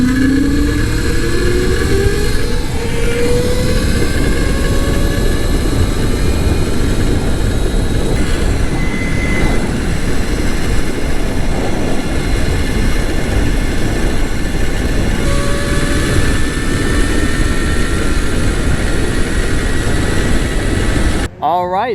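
A CyberX e-bike, built like a motorcycle with pedals, speeds along a road in traffic, giving a loud, steady roar of wind and tyres with a rising electric motor whine throughout.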